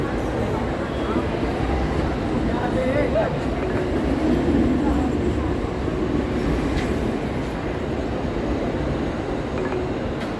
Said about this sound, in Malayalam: ഒരു ലോക്കൽ ട്രെയിൻ ആ റെയിൽവേ സ്റ്റേഷനിൽ ഇങ്ങനെ പോയിക്കൊണ്ടിരിക്കും